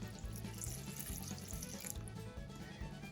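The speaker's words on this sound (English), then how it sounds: "We need to add 6 ounces of water." Water from a tap runs steadily into a sink, a continuous splashing stream for making autumn olive berry jam, close and alone with no talking.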